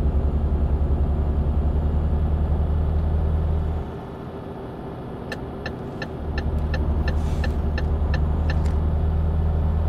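A truck in the Euro Truck Simulator 2 video game drives at speed with a steady, loud engine drone that dips briefly midway. A run of quick, regular ticks sounds near the end.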